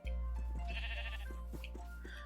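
A Minecraft sheep bleats in a wavering, nasal cry over a continuous low game hum, with a few shorter bleats following close by.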